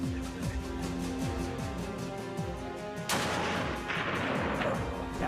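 Rifle shot at a markhor on a mountain hunt in Pakistan: a single sharp crack partway through, over steady noisy background with music-like tones, followed by a brief rolling tail.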